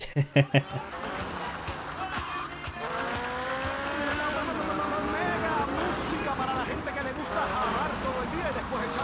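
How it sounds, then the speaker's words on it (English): A motorboat cruising in the video game Grand Theft Auto: Vice City: a continuous engine drone with rising and falling whine after a few opening thumps, with music and game audio mixed in. "let's just drive around in the boat a little bit"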